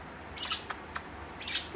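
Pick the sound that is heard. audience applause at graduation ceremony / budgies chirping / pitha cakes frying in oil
budgies chirping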